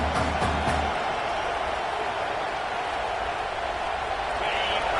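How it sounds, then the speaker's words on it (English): A stadium crowd at a football game roars in a sustained, loud wash of cheering, with a brief low rumble near the start and steady noise through to the end. "Listen to the crowd energy here in the early going."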